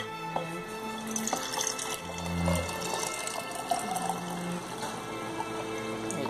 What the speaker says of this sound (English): you can pour that kefir into this clean jar